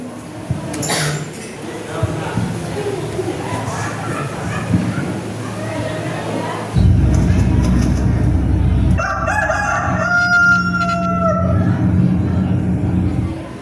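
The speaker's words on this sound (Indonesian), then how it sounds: "Suara ayam berbunyi, bertanda bahwa sudah hari esok." A rooster crows with a rising, drawn-out call during a school theater performance, over a steady low rumble, after a stretch of background noise and faint voices.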